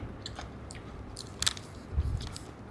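Someone eating grilled pork sausage up close, soft crunchy bites and wet chewing with a couple of louder crisp bites, quiet and alone with no talking.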